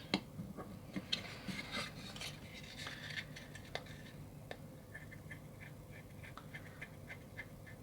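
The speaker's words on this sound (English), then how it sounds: "Well, still, it's very easy to drill with though." Manual mini hand hobby drill with ball bearings turning and cutting, giving a continuous dry scraping and rasping with scattered small ticks and clicks, close and fairly quiet, no voices.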